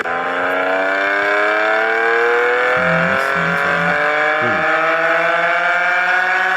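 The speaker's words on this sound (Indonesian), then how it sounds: "Ini adalah Honda NSX. Suara mesin V6, andalannya tuh kayak gini, coy." A Honda NSX's V6 engine winds up in long, loud rising sweeps, climbing steadily in pitch as it revs hard, with brief shifts midway before pulling on again, heard alone without talk.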